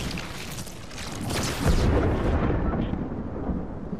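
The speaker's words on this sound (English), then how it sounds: "Why is it like thundering here," Video game thunder rumbles in a long, loud roll that swells, peaks midway, and slowly fades into a low rumble.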